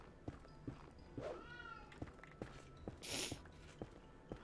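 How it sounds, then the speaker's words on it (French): Cat meows in a Minecraft BetterMinecraft modded survival game, a drawn-out call then a louder burst, over regular thudding footsteps. "Petit chat qui miaule, ouais, il est insupportable, je sais pas pourquoi il miaule."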